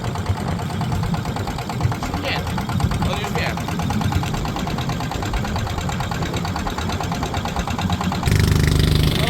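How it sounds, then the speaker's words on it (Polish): A boat's combustion engine drones steadily throughout with a knocking, mid-pitched rumble, loud and close, growing heavier near the end; faint voices sit underneath. "a te silniki tutaj takie spalinowe"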